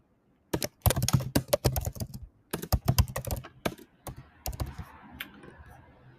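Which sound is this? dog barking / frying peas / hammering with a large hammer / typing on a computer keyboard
typing on a computer keyboard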